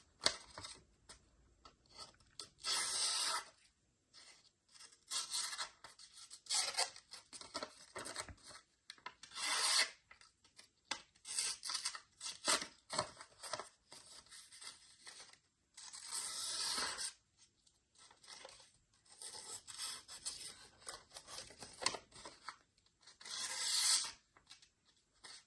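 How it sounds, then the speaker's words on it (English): A Ganzo Firebird FB7651 budget folding knife slicing through paper, a series of close, dry rasping cuts in irregular bursts separated by short silences. "here I got some paper, the obligatory cutting test"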